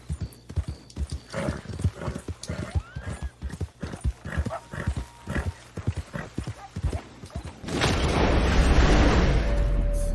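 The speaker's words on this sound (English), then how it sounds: "Come on, horse, why aren't you running?" A horse in Red Dead Redemption 2 gallops with rapid, rhythmic hoofbeats, close and loud, and briefly whinnies before a deep rumbling boom swells and takes over near the end.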